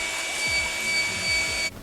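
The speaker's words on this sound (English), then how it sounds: "Go ahead and vacuum out the car." A vacuum cleaner runs inside the interior of a 2019 Chevrolet Camaro SS with a steady, close whine and brushing scrapes as the nozzle moves, then cuts off abruptly near the end.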